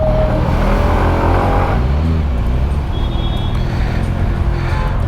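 A SYM ADX 125 adventure scooter runs at speed, its small engine humming over steady road and wind noise, with a rising and falling engine tone as it accelerates.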